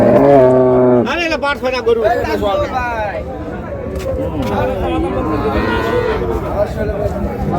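Dairy cows moo loudly and close at a rural cattle market, one long low call and then more lowing under steady crowd chatter and nearby talking.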